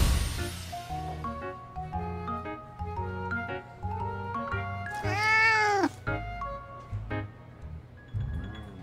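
A cat meows once in a drawn-out, rising and falling cry in the video game Love & DeepSpace, heard over soft, twinkling melodic music playing throughout.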